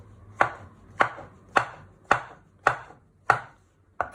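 A knife finely slices halved mushrooms on a board for special fried rice, giving seven crisp, evenly spaced cuts at a steady rhythm, close and clear with no talk.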